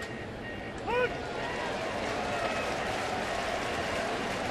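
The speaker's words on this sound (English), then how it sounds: "A sarcastic cheer from the folks here at Busch Stadium" Baseball crowd at Busch Stadium giving a sarcastic cheer, a broad wash of distant voices and applause holding steady beneath a commentator's voice.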